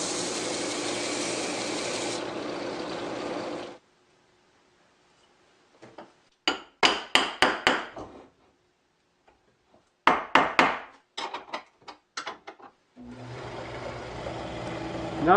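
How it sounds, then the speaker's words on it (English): Hand sanding a wooden bearing block for a homemade lathe, heard as two separate bursts of short, rhythmic rasping strokes, close and fairly loud, between stretches of steadier whirring noise and near silence. "I'll have to sand the top block to tighten that up."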